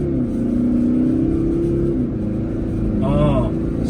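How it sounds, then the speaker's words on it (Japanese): Toyota Land Cruiser 250 engine pulling steadily under acceleration from about 40 km/h, a continuous drone with a rising tone that drops at a gear change, talk over it throughout. "ここからアクセル踏む"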